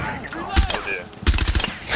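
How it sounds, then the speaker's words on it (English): Gunfire in a house during a Rainbow Six Siege team deathmatch: two heavy, close blasts about a second apart, each with a short rattling tail, amid game noise and faint voices. "have stepped in front of a shotgun"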